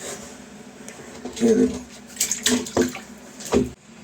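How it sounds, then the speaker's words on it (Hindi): Water drains out of a drum after a tap below is opened, a rushing, gurgling flow with irregular splashy surges that stops abruptly near the end; a faint voice may be present underneath. "पूरे ड्रम का पानी देखो खींच गया, एकदम नीचे चले गया पानी।"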